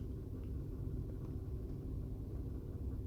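A car engine runs at idle with the driver sitting inside, a steady low rumble holding evenly throughout with no talk over it.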